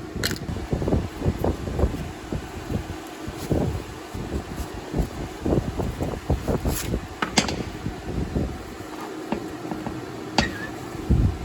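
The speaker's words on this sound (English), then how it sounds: "I'm just using the side cutter to pull them out." Side cutters pry and yank staples from an ATV seat base being recovered, giving a long run of close metallic snaps, clicks and scraping tugs in an irregular rhythm, with small pauses between pulls.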